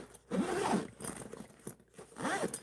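A zipper runs along a travel bag in a few quick rasping pulls with short pauses between them, close and fairly quiet, with no voices.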